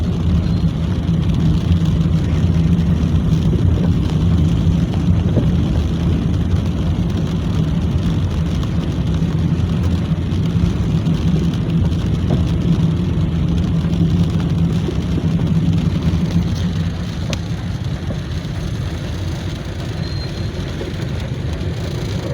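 A car engine drones steadily while driving through a flooded street during heavy rain in Karachi, with a continuous low rumble and water wash loud throughout and no voices.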